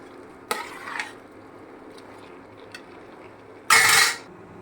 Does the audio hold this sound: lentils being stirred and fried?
yes